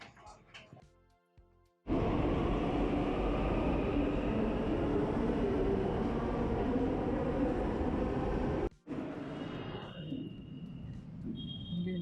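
Delhi metro train arriving at a station: a loud sustained rumble and roar rises abruptly, holds for several seconds, then cuts off as the setting quiets, with people talking nearby.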